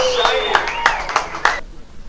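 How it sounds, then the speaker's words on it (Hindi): Five sharp hand claps land at an even, brisk pace over a faint voice, then stop abruptly. "टकलिया ताली मारना।"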